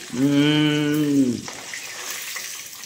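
Chicken pieces frying in oil sizzle steadily and loudly. A short tonal hum at the start gives way to a hissing crackle that continues to the end.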